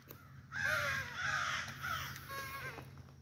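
A child outdoors imitates a crow by voice, giving three or four drawn-out, raspy caws in a row, fairly close and clear, with no other talk.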